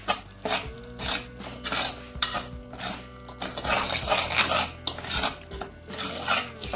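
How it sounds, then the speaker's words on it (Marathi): Homemade black masala being sautéed in a pan for prawn masala curry, repeated metallic scraping and clinking of a spoon against the pan in an irregular stirring rhythm, with faint sizzling underneath. "हा घरगुती मसाला आहे काळा मसाला तो घालते चांगला परतून द्यायचा आहे"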